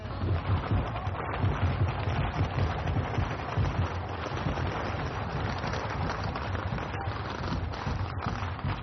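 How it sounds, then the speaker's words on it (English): Dense, continuous crackling and popping of firecrackers going off in the streets during a New Year procession in Tianshui, China, loud and close, with a rumbling wash of bangs and no pause throughout. "Firecrackers going off all over the place."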